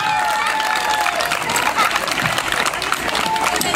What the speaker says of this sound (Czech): Zaslouží si velký potlesk určitě.